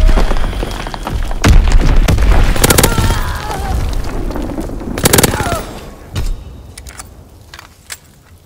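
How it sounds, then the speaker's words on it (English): Enemy bombs exploding in a WW2 team deathmatch video game, heard as several loud, close booms mixed with bursts of machine-gun fire, fading toward the end into sparser, fainter hits. "Enemy bomb incoming. Get to cover."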